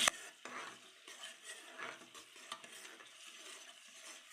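Ginger garlic paste stirred into fried onions in a pan for vegetable kurma, giving soft scraping and light sizzle with a few spoon clinks, fairly quiet and steady throughout.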